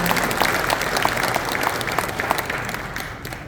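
Sustained applause from an audience at a Naju city residents' town-hall meeting in Nampyeong-eup, a dense wash of clapping that stays steady and fades slightly near the end.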